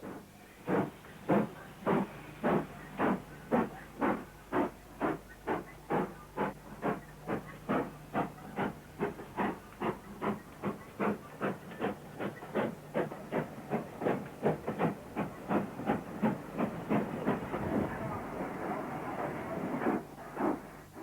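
A Castle class steam locomotive working at Snow Hill, with loud, regular exhaust chuffs in a steady rhythm that quicken slightly as it pulls away, under a constant steam hiss.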